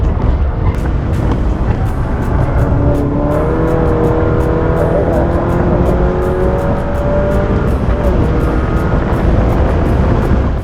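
A race car laps High Plains Raceway, its engine loud and close in a continuous roar with rising tonal whines as it accelerates, blended with heavy wind buffeting.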